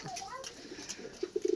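Racing pigeons kept shut in a loft coo in a quick run of soft, low, rounded notes that build near the end, with faint bird chatter and light background noise earlier on.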